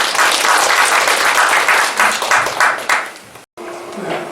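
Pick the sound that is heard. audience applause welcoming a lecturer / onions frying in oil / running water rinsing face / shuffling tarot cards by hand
audience applause welcoming a lecturer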